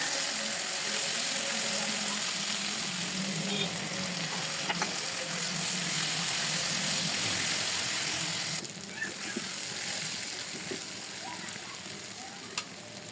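Tomatoes frying in a pan give off a steady, dense sizzle that holds evenly and then drops in level, with a few soft scrapes from stirring and no speech.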